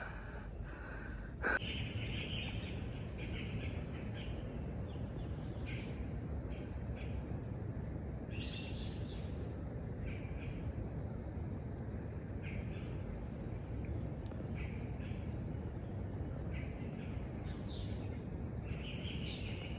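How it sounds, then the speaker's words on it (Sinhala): Scattered bird chirps in a quiet forest on the Vangadigala hike, small calls popping up over a steady low rumble of wind or ambient noise, with one sharp click early. "කුරුල්ලන්ගේ සද්දේ"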